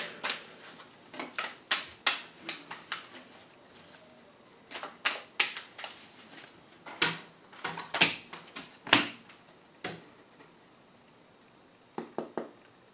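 Quick papery riffles and soft slaps of tarot cards being shuffled, coming in uneven bursts with brief pauses, close by and fairly quiet.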